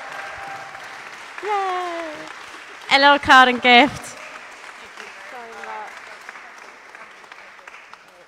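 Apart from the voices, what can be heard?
church congregation applauding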